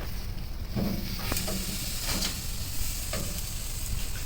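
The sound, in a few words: tri-tip steak sizzling on charcoal grill after flipping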